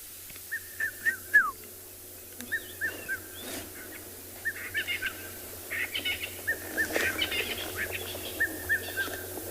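A cuckoo calls repeatedly at sunset on an outdoor safari, its short phrases coming in a steady series at moderate distance over a quiet bush background.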